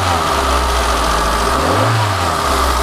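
A car engine runs loud and steady, its low rumble rising briefly in pitch as it revs, then settling back to idle.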